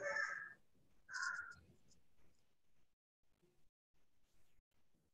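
Archival crow recordings from the Cornell Lab play in an art installation: two loud, harsh caws in quick succession open the sequence, followed by faint scattered low sounds and quiet gaps.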